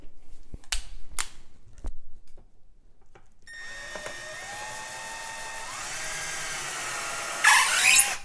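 A power drill whines up and holds a steady high tone while driving screws into an Ikea Maximera drawer, after a few sharp clicks and knocks, with a brief louder burst near the end.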